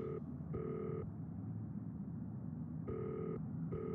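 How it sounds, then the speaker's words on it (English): A telephone in the Nancy Drew: Danger By Design video game rings in short electronic bursts, three rings separated by pauses, heard alone over a steady low background hum. "Ringing, da da da da da. Ringing."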